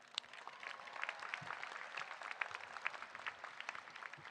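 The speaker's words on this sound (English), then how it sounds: "So please give yourself a huge, well-deserved round of applause." Graduates at a university engineering commencement clap together, a fairly faint, steady patter of many hands with scattered sharper claps.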